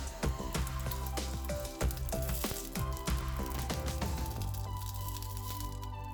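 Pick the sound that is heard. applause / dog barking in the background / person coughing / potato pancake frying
potato pancake frying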